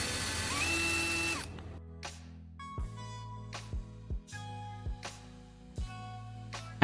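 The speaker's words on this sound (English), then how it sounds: "I'm using a drill to make a pilot hole through the CD." A power drill bores a pilot hole through a foil-covered CD resting on a small wooden block, opening with a loud whirring run and then giving way to a string of short, sharp ratcheting bursts spaced about a second apart.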